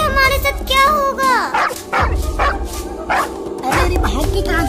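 Cartoon dog yipping and barking in short bursts while chasing, mixed with music and characters speaking over the barks.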